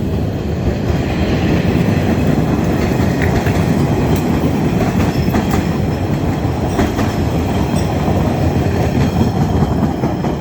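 A red line train rumbles past loudly and continuously, with rattling wheels and faint metallic squeals over a heavy low roar.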